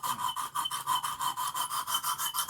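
Boker clip-point knife blade drawn across a coarse Lansky deluxe diamond stone, a close, steady rhythm of quick rasping strokes, about six per second, with no voices.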